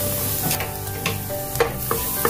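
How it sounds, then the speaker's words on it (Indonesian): Garlic stir-fries in hot oil, a close steady sizzle broken by a few sharp scraping and stirring knocks from a utensil against the pan. "Kita tumis bumbu bawang putihnya sampai harum, sampai berubah warna kecoklatan ya."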